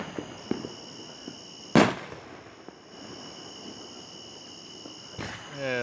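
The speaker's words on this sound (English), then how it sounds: "Surround sound, fireworks." Backyard fireworks and firecrackers, cherry bombs among them, go off around a Memphis, Tennessee neighborhood: one sharp loud bang and several fainter distant pops over a steady chirp of crickets, with a whistling burst near the end.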